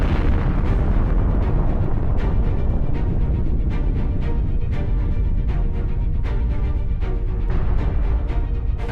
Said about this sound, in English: the resulting explosion is massive